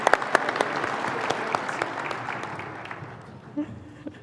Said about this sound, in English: Let's congratulate our winners with a round of applause.